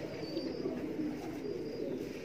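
Pigeons cooing softly at a pigeon keeper's loft, a steady low murmur of several birds close by with no talk over it.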